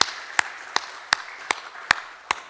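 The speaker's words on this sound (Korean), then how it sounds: "우리 박수로 환영하면 참 좋겠습니다" Slow, evenly spaced hand claps in a church congregation welcoming a member, six crisp separate claps about a third of a second apart over a quiet room.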